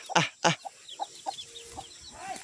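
Chickens clucking on a village farm, a couple of loud close squawks followed by a series of short, softer clucks at an irregular rhythm, with no talking.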